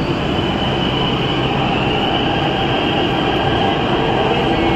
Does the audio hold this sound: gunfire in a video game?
no